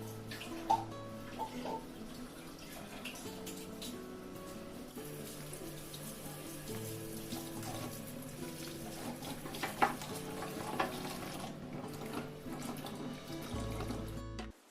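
Vegetables are washed under a running kitchen tap, a steady splashing stream with occasional knocks and clinks, heard alone at moderate level for the whole stretch.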